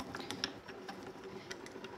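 Manual die-cutting machine feeding cutting plates through its rollers, a faint clicking, ratcheting mechanical whir with small irregular ticks.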